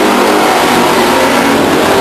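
Race cars at Stockton 99 Speedway roar loudly as they accelerate together on a green-flag restart, a dense, continuous engine blare filling the air at close range with no break.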